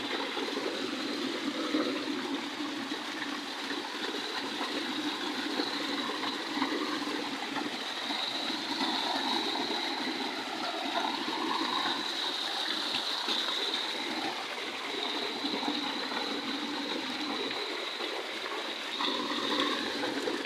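Mountain stream water runs down from the summit into a muddy construction site in Sorsogon City, giving a steady, full rushing flow with light splashing, close and continuous, with no one talking.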